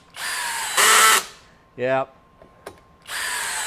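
Masterforce 20V brushless compact hammer drill driving a 3-inch deck screw: a loud whirring burst that rises into a harder run, then drops off, with a short spoken word and a brief tap before the motor spins up again.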